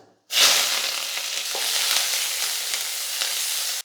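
Onion and curry leaves hitting hot oil with mustard seeds and cumin, a sudden loud sizzle that bursts in and holds steady, bright and close, with a few faint stirring clicks and no voices.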